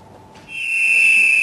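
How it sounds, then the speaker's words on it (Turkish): Whistles blown by teachers on a protest march in Van ring out in a loud, sustained shrill tone that swells in after a brief quiet start and holds steady, with no voices. "Düdük çalarak yürüyen öğretmenler"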